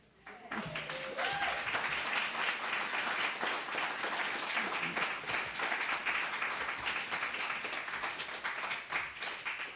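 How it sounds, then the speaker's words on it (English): An audience at a Passover Sunday service applauds the class of 2024, starting with a brief voice, then a full, steady burst of clapping that carries on evenly, close and sustained, for several seconds. "can you stand and receive our applause"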